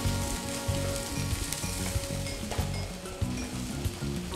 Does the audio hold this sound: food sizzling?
yes